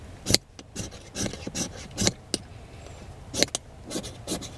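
A knife blade scrapes a firesteel in a series of sharp, rasping strokes. The strokes come irregularly, some single and some in quick pairs, and sound close and fairly loud with no talk.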